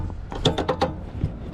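An electrical connector is unplugged on a 2015 Acura TLX during a rear steering diagnosis, giving a quick cluster of close plastic clicks and rattles followed by a single softer click.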